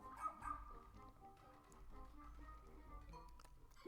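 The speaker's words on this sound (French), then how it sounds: "Il est trop chou ce chien." A cartoonish dog in the Pikmin 4 video game gives a few soft, faint yips and whimpers over quiet game music, the brief cries clustered near the start.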